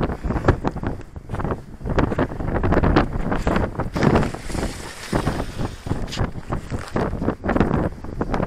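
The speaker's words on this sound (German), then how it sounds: "Es ist verdammt windig" Strong wind on Gran Canaria buffets the microphone in loud, gusty roaring bursts that rise and fall throughout, with no talk.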